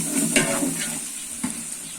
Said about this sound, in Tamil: இப்ப இஞ்சி பூண்டு ஓரளவுக்கு வதங்கிருச்சு